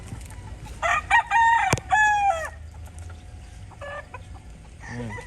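A gamefowl rooster with a straight comb crows loudly and clearly, its call rising and then trailing off, with softer clucks and faint farmyard background afterward.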